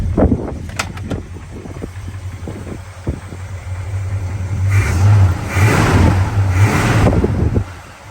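A 1970 Chevrolet El Camino with dual exhaust idles with a few sharp clicks and knocks, then revs up loudly in two sustained bursts before settling back down.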